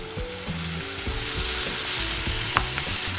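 Okra and callaloo hit a hot pan with a loud continuous sizzle, broken by repeated low knocks and scrapes from stirring, close and with no voices.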